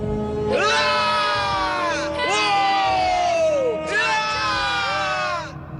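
Animated characters yell at full volume in three long, strained shouts with rising and falling pitch, loud and close, separated by brief gaps.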